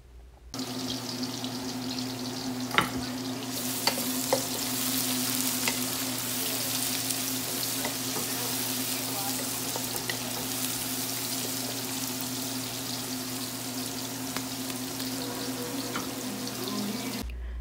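Roughly chopped onion and garlic frying in oil in a home kitchen, a loud continuous sizzle that holds steady throughout, with a few faint clicks and light clatter from stirring underneath.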